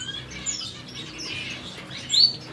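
Blue-faced parrot finches chirp in an aviary, faint high tweets scattered over soft background noise, with one brighter call near the end.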